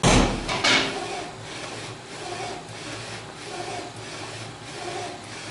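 A J16 UV printer with a 16 by 24 inch bed prints custom Rubik's Cubes, giving off a steady close mechanical whir with repeated rubbing swishes as the carriage passes back and forth, and no talk.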